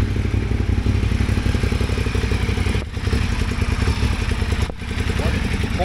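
Motorcycle engine idling close by with a misfire on the horizontal front cylinder, a loud uneven chugging beat broken by two brief stumbles where the running drops out, with someone talking over it.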